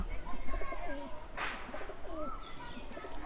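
Soft pigeon cooing in low, rolling phrases with a few faint chirps, set against a quiet, steady background.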